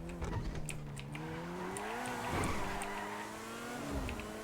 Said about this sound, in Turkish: Abi araba kalkışı çok güzel ya. Çok iyi kalkıyor araba.